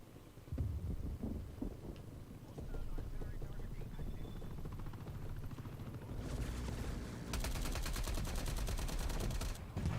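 Video game gunfire crackles in rapid bursts over a dense, roaring battle background, growing into a sustained heavy barrage toward the end.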